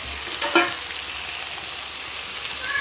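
Ridge gourd peel with curry leaves, ginger and garlic sautéing in a pan, a steady close sizzle with a stirring clack near the start and faint scraping, no talking.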